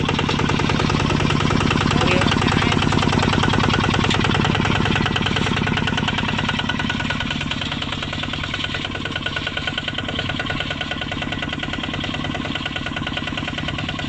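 Kubota ZT155 walk-behind tractor engine running steadily while reversing and shifting into low gear, a loud continuous diesel chug with rapid rhythmic knocking throughout, close by.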